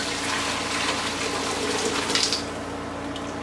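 Lobster and crab stock poured through a fine mesh strainer into a container set in an ice bath, a steady close gushing, splashing liquid flow with no talking.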